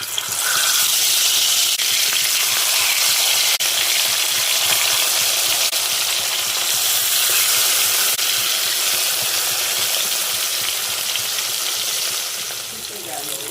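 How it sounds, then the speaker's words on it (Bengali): Fish frying in hot mustard oil in a wok, a loud, steady broadband sizzle that holds almost unbroken for the whole stretch, close up, with no talk over it. "এখানে সরিষার তেলটা দিয়ে দিচ্ছি। গরম হলে এক এক করে মাছগুলো দিয়ে ভালো করে"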